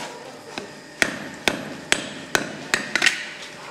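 A blacksmith at the forge, one of the Ribeira smiths, hammers hot iron with seven or eight sharp, ringing blows. The strikes fall at a steady, slightly uneven pace, each landing clearly over a quiet workshop background.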